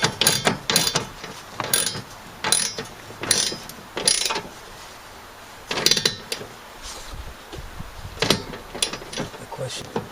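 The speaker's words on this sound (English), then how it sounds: "Use a box end wrench on that." A box end wrench works a nut on a snowblower, giving a series of sharp ratcheting clicks and metallic clanks in irregular bursts, close by and moderately loud with quiet pauses between.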